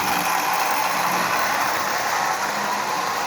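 A Marx 6000 toy locomotive, a dummy unit converted to run under power, whirring along the track with a steady mechanical gear hum and fine rattling, close and constant, with no voices.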